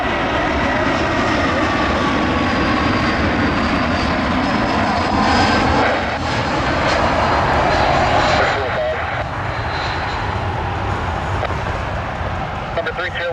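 Republic Airways airliner engine arriving at an airport, a loud continuous roar and whine that holds steady throughout, with radio-style talk over it.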